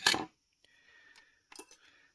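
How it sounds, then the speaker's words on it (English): A crisp close snip of scissors cutting thread while sewing, followed by faint metallic clicks and a second softer snip in a quiet room. "And then you can snip it fairly close"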